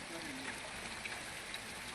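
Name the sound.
heavy rain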